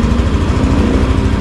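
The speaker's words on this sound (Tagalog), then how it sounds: "napakatahimik na makina. Pakinggan yung kanya." A Yamaha Aerox 155 V3 scooter engine runs close by at a steady, loud, low idle with a smooth even hum and no voices over it.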